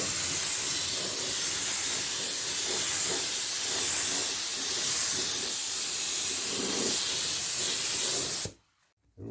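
A spray gun lays paint coats on a Ford F-150 fender with a continuous, loud broadband hiss that runs steadily for over eight seconds, then cuts off sharply and briefly resumes.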